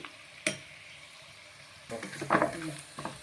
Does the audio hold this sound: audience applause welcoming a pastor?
no